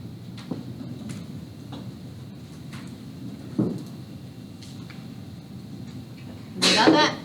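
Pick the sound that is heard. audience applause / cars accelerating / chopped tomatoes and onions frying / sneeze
sneeze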